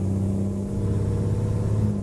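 A steady American Truck Simulator truck engine drone holds at a constant pitch, humming continuously with a low rumble and no other sounds.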